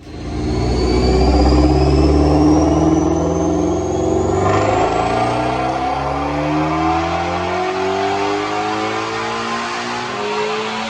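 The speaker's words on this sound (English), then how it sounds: "I'm going to make a couple of dyno pulls." A supercharged 2016 Ford Mustang GT350 with a Whipple supercharger revs hard on a dyno, its engine note climbing steadily then easing into a sustained loud whirring drone with rising supercharger whine.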